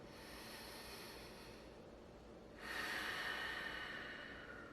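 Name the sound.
deep breaths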